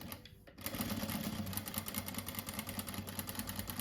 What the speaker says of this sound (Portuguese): eu vou costurar em cima do risco